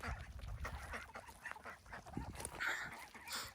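Chickens cluck and squawk close by in a busy flock, with repeated irregular calls over a steady outdoor background throughout.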